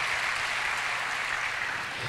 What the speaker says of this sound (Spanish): Deme un fuerte aplauso a nuestro Dios